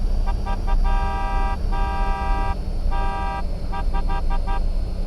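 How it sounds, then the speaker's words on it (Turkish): Horn of a Tesla truck in PUBG Mobile, loud and near, blaring in several bursts: short toots, then two longer blasts and a quick stutter of short honks over a steady engine hum. "Korna klasik korna arkadaşlar."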